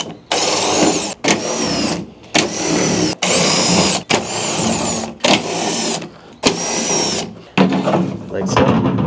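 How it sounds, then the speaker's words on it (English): Power screwdriver backing out T30 screws from an interior panel of a 2013–2018 Ram 1500, in repeated loud whirring bursts about a second long, separated by short pauses, close by. "Our first step here, guys, is to remove 8 T30 screws that are holding this panel in place."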